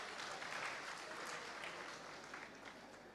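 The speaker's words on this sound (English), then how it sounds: "Let's give a big clap for everyone that participated" A forum audience at a TVET consultative gathering gives a round of applause for participants, a steady, moderately dense clapping from a room of people, slightly tapering by the end.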